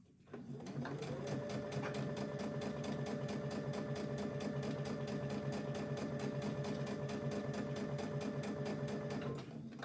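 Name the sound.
sewing machine stitching fabric cup cosy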